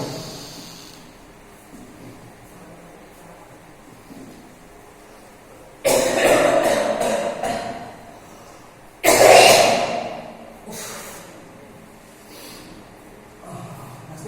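Two loud, harsh bursts, one around the middle and another a few seconds later, sound like coughing against a quiet background.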